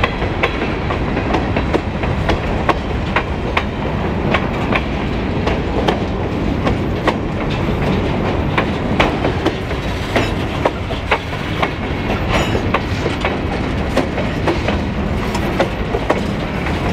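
A narrow gauge train rolls along the railway at Surprise Station, wheels clattering in a steady rhythmic clickety-clack with rumbling cars, loud and continuous throughout.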